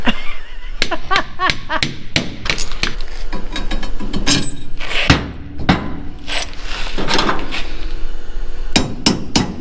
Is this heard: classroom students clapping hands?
no